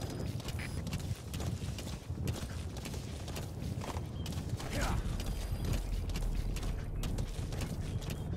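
Horse hooves clip-clop at a steady walking pace in Metal Gear Solid V, a continuous close rhythm layered with faint mechanical clanks and game ambience.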